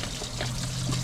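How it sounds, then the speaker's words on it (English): Coolant pours and trickles out of a loosened water pump on a 2005 Chevy Safari, a short steady liquid stream heard alone close by. "It's time to leak some coolant now."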